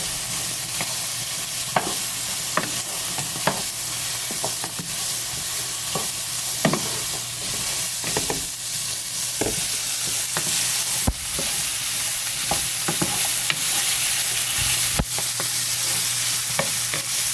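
Sausage browns alongside cooked celery in a pan, giving an unbroken close sizzle with scattered small pops and clicks of stirring throughout.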